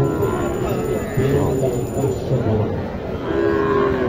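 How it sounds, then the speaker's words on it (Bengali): A Nepali-breed cow or bull at a busy cattle market in Naogaon gives low, drawn-out lowing calls close by, over a constant crowd murmur and background chatter. "এইখানে একটা গরু আছে নেপালি, দেখেন"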